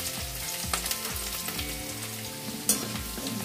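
Minced garlic and ginger frying in a pan with a dense, steady sizzle and occasional stirring clicks, close, over a low repeating tonal background.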